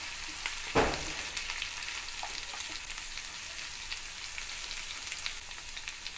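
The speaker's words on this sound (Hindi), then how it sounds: "अभी इसको भी हम अच्छे से तेल में फ्राई कर लेंगे" Chicken frying in oil with salt, a soft steady sizzle with one clear knock of a spoon against the pan near the start, then quiet scraping as it is stirred.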